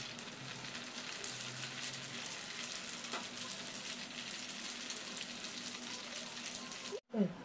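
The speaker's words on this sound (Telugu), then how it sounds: "ఆయిల్ హీట్ అయిన తర్వాత పూరీలను వేయించుకోవాలి." Puris frying in hot oil in a kadai make a steady, even sizzle with a soft bubbling hiss that holds at a moderate level, then breaks off in a brief bump near the end.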